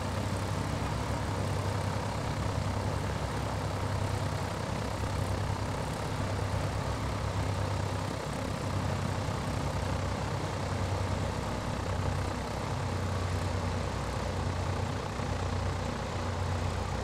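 Piper PA-44 twin-engine aircraft taxiing fast at about 30 knots ground speed in Microsoft Flight Simulator 2020, a steady low engine drone and broadband hum that runs loud and unbroken throughout.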